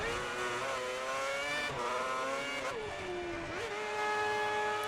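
High-pitched, whining engine of a Formula 1 car in the F1 2010 racing video game, heard up close and steady as the pitch dips and rises while the car slows into the pit lane.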